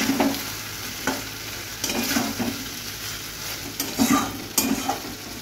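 Fried chicken leg pieces stirred in a sizzling pan, a spatula scraping in several distinct strokes over a constant close fry, with no talking.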